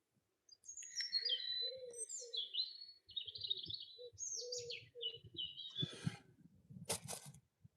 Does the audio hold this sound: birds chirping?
yes